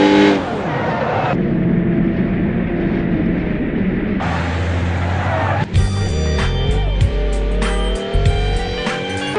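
A Ford GT40 driving in the BeamNG driving game, its engine droning steadily with shifts in tone as it speeds along, joined by louder low engine rumble partway through.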